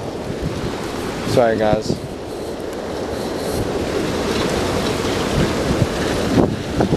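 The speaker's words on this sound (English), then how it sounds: "Dude, it is raining like crazy." Heavy rain pours outside at night in a storm, a dense steady hiss and roar close to the microphone, with wind buffeting, while someone speaks briefly over it.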